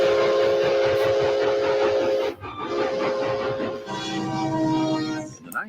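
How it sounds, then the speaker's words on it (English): A loud, sustained J3 snowplow locomotive horn chord blares, pauses briefly, then sounds again in long wailing blasts with a rumbling undertone. "That's a J3 snowplow horn."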